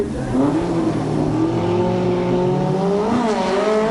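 A road-legal VW Polo drag racing a wheelie-popping buggy at Bug Jam 18 in 2004, engines howling steadily and climbing through gear shifts, loud and sustained.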